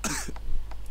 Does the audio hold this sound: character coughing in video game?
yes